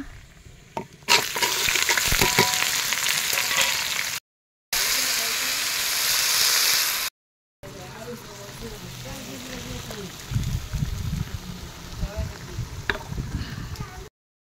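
Steady sizzling of onions and potatoes frying in a hot pan, a dense crackling hiss with brief gaps and some stirring clatter toward the end.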